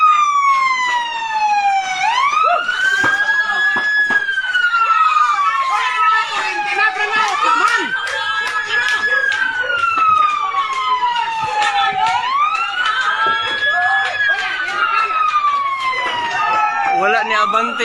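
A loud wailing fire truck siren rising and falling in repeated cycles, close by, with crackling noise and occasional voices underneath, during a fire at establishments in Prosperidad, Agusan del Sur, Philippines.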